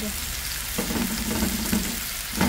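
Lemongrass sizzles and crackles steadily in hot oil for native chicken tinola, a close, continuous frying hiss with faint stirring.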